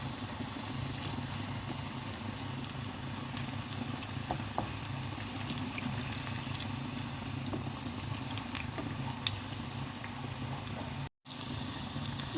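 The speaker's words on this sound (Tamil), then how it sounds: "இப்போ பொரிக்கிறது நல்லா ஹை ஃப்ளேமில் நல்லா கிறிஸ்பியாக பொரிச்சுக்குங்க" Pre-boiled cauliflower deep frying in hot oil over a high flame until crisp: a steady, dense sizzle and bubbling that runs unbroken throughout, with one brief dropout near the end.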